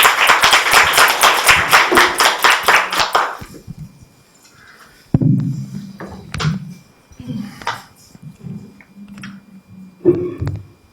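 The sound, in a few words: audience applause welcoming a speaker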